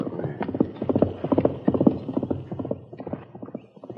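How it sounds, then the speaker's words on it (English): Galloping horse hoofbeats staged as a 1950 Western radio drama sound effect, a fast, close clip-clop rhythm of repeated hoof strikes running steadily without a break. "Someone's coming at a gallop beyond the bend."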